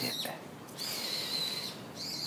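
Loud, high-pitched birdsong rings out in repeated bursts in Esaka Park in autumn, trilling and whistling close by over a quiet background.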